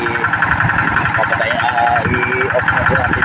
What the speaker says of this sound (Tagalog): i-off na po natin yung ating makina kasi marami na po tubig.